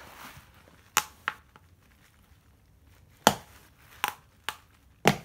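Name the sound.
tyre bead popping onto scooter wheel rim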